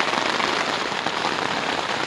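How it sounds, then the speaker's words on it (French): Steady rain drums on a tent during a multi-day cycling trip in the Creuse, a dense, continuous patter that stays close and even, with no voices. "Je suis dans ma tente et il pleut."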